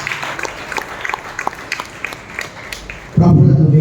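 A church congregation claps together during worship in a series of sharp, uneven hand claps. A loud voice then speaks over a sudden swell of room sound.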